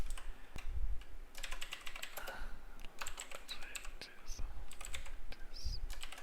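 Computer keyboard clattering as code is typed, steady close key presses in quick bursts with a few short pauses.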